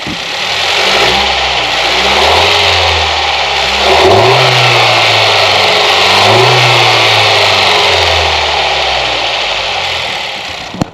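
A 10th-generation Honda Civic Si engine fitted with an HKS blow-off valve revs loudly and steadily, rising and falling in two clear swells over a constant rumbling drone, with no voices.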